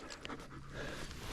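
Falcon, a dog in prey drive training, pants quickly and rhythmically in soft, breathy puffs, faint but close, with no voices.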